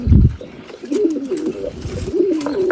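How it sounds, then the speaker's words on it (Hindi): White pigeons in an aviary coo softly and continuously in low rolling calls, several birds close by, with a brief thump at the start. "पूरा के पूरा वाइट कबूतर की एवरी है"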